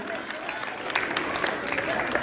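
Applause from a quiz show audience cheering a participant, a dense, continuous patter of clapping with a voice speaking over it.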